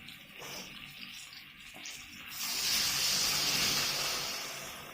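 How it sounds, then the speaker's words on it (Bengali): Water poured into a pan of frying potatoes and mango for a sour-spicy-sweet fish dish, starting with faint sizzling and then a loud, steady hiss and rush of liquid that swells midway and slowly eases off. "এবার একটু আমি জল ঢেলে দেবো।"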